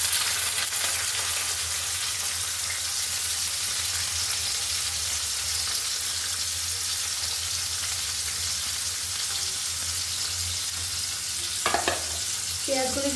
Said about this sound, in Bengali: এখন পেঁয়াজ কুচি দেব